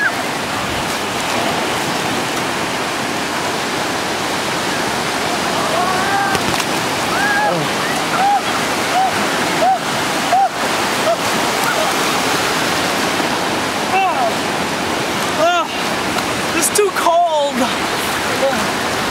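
Ocean surf washes continuously at a beach, a loud, steady roar of breaking waves and churning water with brief splashes throughout.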